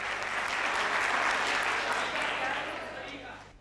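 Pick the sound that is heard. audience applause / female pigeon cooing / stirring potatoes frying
audience applause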